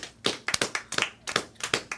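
A few people clapping in a podcast studio after a weather segment, a brief burst of uneven, close handclaps lasting about two seconds.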